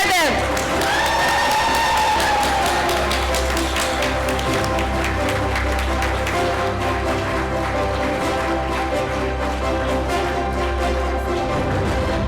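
Parents cheering and clapping for nursery school graduates at a graduation ceremony, a steady dense wash of applause with whoops and shouts, loud and sustained throughout, with a voice briefly audible at the start.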